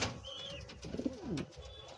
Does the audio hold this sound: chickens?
no